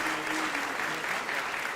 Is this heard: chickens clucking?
no